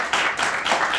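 Audience applause at a Korean book talk event, a steady patter of many hands clapping at moderate level for about a second, without talk over it.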